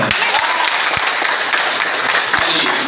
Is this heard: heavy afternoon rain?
no